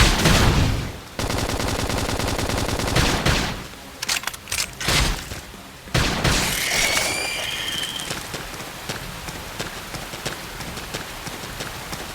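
Rapid gunfire bursts in the video game Xenoblade Chronicles X, with dense repeated shots early on, then sharper scattered blasts and game effects mixed with busy combat sounds.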